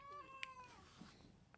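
A pet cat meows close by indoors, a drawn-out falling call with a few short sharp squeaks and chirps after it, over a low steady room hum.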